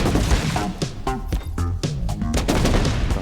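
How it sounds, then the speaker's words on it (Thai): Rapid bursts of bomb blasts from the Bomb Bots Arena video game crowd together in a dense, loud, continuous barrage of overlapping booms and crackles with no pause. "จะดูระเบิดตัวเองหลบก่อน"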